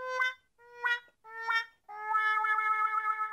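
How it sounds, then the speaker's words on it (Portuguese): Sad trombone fail effect played from a Comica AdCaster C1-K1 audio interface pad: three short descending brassy notes followed by a long wavering held final tone, clear and alone. "Aquela cornetinha do fracasso,"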